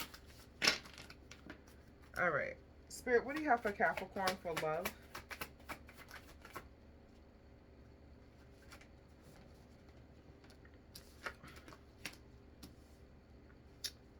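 Tarot cards are shuffled in a quick riffling burst, then a few soft taps, under a calm voice speaking quietly.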